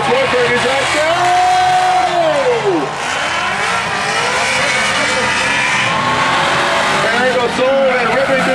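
Drift cars at a Drift Atlanta 2011 competition throwing into a corner, engines revving and wailing loudly with a rising and falling pitch and tire roar, under continuous excited commentary.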